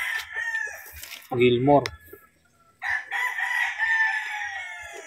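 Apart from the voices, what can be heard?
rooster crowing, brood cock at a game farm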